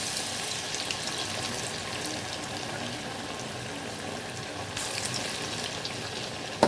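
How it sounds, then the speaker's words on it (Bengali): Jute leaf pakoras frying in oil over a low to medium flame, giving a continuous even sizzle close by, with a brief rise in hiss near the end and a sharp knock at the close; no speech. "লো টু মিডিয়াম ফ্লেমে একটু আস্তে আস্তে পকোড়াগুলোকে ভাজলে পকোড়াগুলো কিন্তু খুব খাস্তা হবে"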